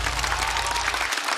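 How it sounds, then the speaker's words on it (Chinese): A stand-up comedy audience applauds loudly and steadily as one comedian leaves, a dense wash of clapping that cuts off abruptly near the end. "再次掌声送给孟川。"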